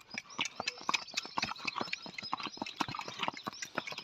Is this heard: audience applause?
no